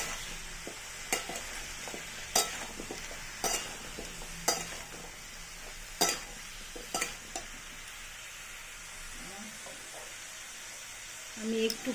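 Vegetables fry in hot oil with a steady, moderate sizzle, broken every second or two by crisp spatula clicks and scrapes against the pan.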